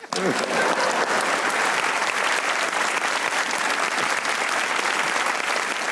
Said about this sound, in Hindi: आयशा उमर के लिए भी तालियां